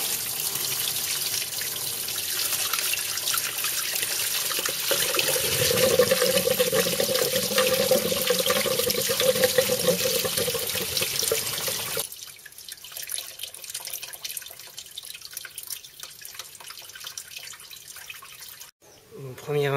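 Coolant draining from a car's cooling circuit during a flush, a steady loud rush of liquid that cuts off abruptly midway, leaving quieter dripping and faint handling noises.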